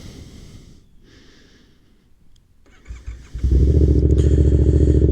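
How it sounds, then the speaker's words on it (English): A Yamaha FZ07 motorcycle engine cranks and fires up, settling into a loud, steady idle after a few quieter mechanical clicks and rustles. "This bike can get pretty loud, but I'm gonna turn it on here."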